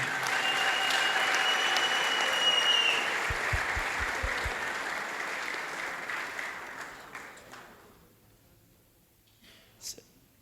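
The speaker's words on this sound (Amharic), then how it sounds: "ለራሳችሁ አጨብጭቡ።" A church congregation claps together in a loud, dense burst of applause that holds steady for several seconds, then gradually thins and dies away to near silence.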